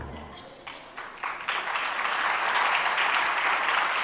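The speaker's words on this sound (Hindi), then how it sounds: "ताली बजाने से काम नहीं होगा" A sermon audience breaks into applause, scattered claps building within a second or two into sustained, dense clapping that holds steady and fairly loud through the end.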